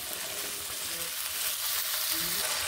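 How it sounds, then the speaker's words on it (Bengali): Potatoes frying in a pan for aloo posto, a steady, loud broadband sizzle running throughout with faint scraping of stirring underneath. "তারপর আমি আলুগুলোকে ঢাকা দিয়ে দিই, বেশ ভালোভাবে ভেজে নেব।"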